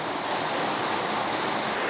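Inside a cave, a waterfall pours with a constant, full rushing roar, steady and close, with no voices over it.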